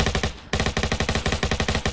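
Rapid automatic rifle fire in the Roblox game Jailbreak, a loud close burst of evenly spaced shots after a brief pause, continuing steadily without talk.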